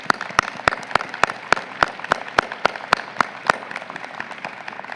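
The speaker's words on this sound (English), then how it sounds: "Let's give these students a round of applause." Sparse, evenly spaced individual claps at a medical school commencement ceremony, a dozen or so sharp, close hand claps in a steady rhythm rather than full crowd applause.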